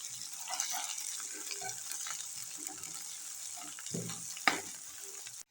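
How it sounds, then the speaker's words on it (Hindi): Ginger garlic paste fries with browned onions in a pan, giving a soft, steady sizzle broken by occasional stirring scrapes and a brief clatter near the end. "अदरक और लहसुन की अच्छे से बुनाई हो चुकी है।"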